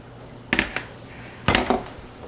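Two bursts of clinking glass and metal as glass jars are knocked together while lifted out of a pressure canner, with a quiet steady hum underneath.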